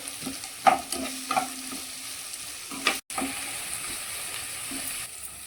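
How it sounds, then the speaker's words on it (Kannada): Chopped onions fry in a pan for Mangalorean chicken sukka, with a steady sizzle under intermittent scraping and stirring strokes and a few clinks of the spoon against the pan. "ಇವಾಗ ಆನಿಯನ್ ಕಂದು ಬಣ್ಣ ತನಕ ಕಾಯಿಸ್ಕೊಳ್ಬೇಕು."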